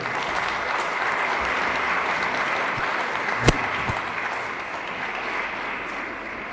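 An audience at a school address applauds steadily, a broad even roar of many hands clapping throughout, with one sharp brief knock partway through.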